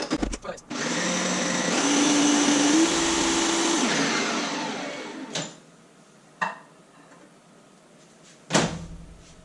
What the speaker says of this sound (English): So I'm going to microwave them again.